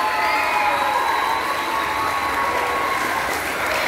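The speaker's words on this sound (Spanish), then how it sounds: "Quiero brindarles un fuerte aplauso a estas grandes maestras, a estas grandes líderes." An audience at a university literary event applauds teachers, a full and steady wash of clapping mixed with cheers that lasts the whole stretch.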